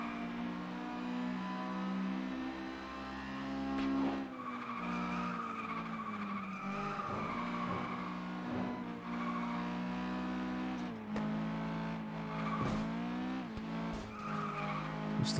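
A race car in the FlatOut 2 racing game spins out with a long tire skid and squeal over a steady, droning engine note, shifting pitch as it slides and recovers.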